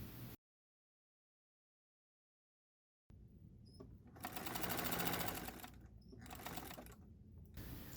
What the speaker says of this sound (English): Bring your work back to your sewing machine and sew a 45-degree seam right here.